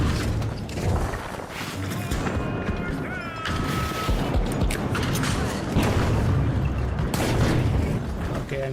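Frag grenade detonation in a video game firefight: several sharp, heavy blasts burst out amid crackling gunfire and mechanical clatter, loud and close.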